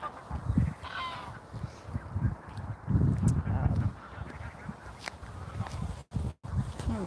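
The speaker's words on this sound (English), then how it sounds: "Most of them look like the Canada geese." Several loud Canada goose honks ring out at intervals, some overlapping, with quieter calls and outdoor background between them.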